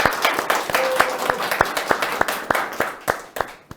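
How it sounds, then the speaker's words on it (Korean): An audience at a debate forum on improving the rights of apartment complex security guards gives scattered applause: a loose run of individual claps, fairly near, steady and unhurried, with a brief murmur of voices early on. "박수 한번 부탁드립니다."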